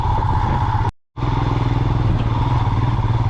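A motorcycle engine drones steadily and loud while riding a rough mountain road on the Adi Kailash route near Dharchula, with a brief dropout partway through, then the continuous engine rumble resumes.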